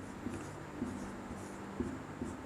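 Writing on a board during a class 9 maths lesson on triangle theorems, with a few faint short scratchy strokes over a quiet room hum, no talking.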